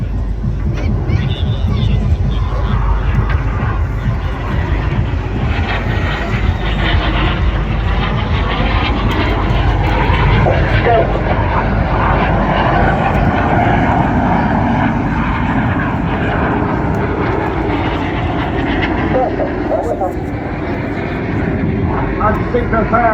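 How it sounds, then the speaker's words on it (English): Red Arrows jet aircraft roar steadily overhead during barrel rolls at the Blackpool air display, a dense, sustained engine rumble with crowd babble and a commentator's voice mixed underneath. "Each aircraft will perform a barrel roll."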